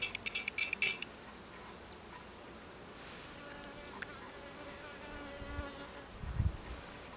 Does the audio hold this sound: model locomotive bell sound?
no